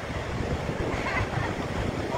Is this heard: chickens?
no